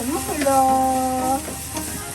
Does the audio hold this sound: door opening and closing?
no